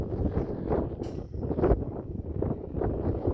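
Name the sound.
wind blowing on microphone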